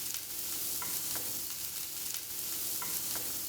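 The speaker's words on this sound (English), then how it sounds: "and then add the chopped onion." Chopped onion hits hot oil in a pan and sizzles loudly and steadily from start to finish, with light scraping and stirring noises over the constant frying hiss.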